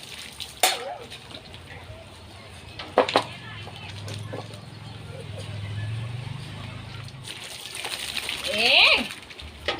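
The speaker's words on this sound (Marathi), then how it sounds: "ऐ नको, माझ्या अंगावर पाणी येतंय गोब्या. भिजवलं तू मला." Water splashing during a dog's bath, with intermittent splashes and sprays over a steady background, a few sharper bursts near the start and middle, while a voice talks and complains about getting wet.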